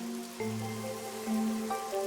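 Steady rain falling over a huge city in the game Rain Code, a continuous wash of patter under soft sustained tonal music notes that shift every second or so.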